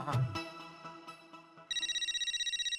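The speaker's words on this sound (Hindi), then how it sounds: "चलो 1 मिनट। जेठालाल का फोन" A phone ringtone kicks in after a short musical intro, a bright electronic trill repeating rapidly and steadily, loud and close.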